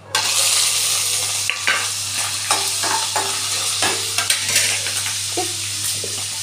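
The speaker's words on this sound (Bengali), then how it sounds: "লঙ্কাটা খুব ফাটছে, তাই একটু ঢাকা দিয়ে দিলাম" Slit green chillies splutter and crackle in hot oil that already holds whole spices and cumin, a steady close sizzle broken by sharp pops and the scrape of stirring.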